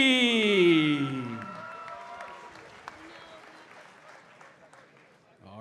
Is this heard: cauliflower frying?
no